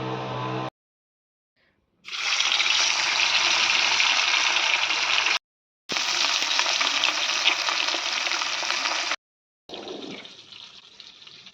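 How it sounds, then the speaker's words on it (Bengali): Fish frying in a pan during a winter lunch of fish curry and vegetables, a loud, dense spitting sizzle heard in long close bursts separated by abrupt silent gaps. "এই যে হচ্ছে আমাদের এখন মাছ ভাজা।"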